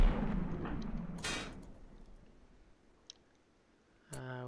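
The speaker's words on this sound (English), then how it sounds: "I think the four of you now will start shooting at one of these walls first" Colonists in RimWorld fire at a wall: a booming shot fades out at the start, a quick rattling burst follows, then a lone faint crack, before a short tonal game sound closes it off.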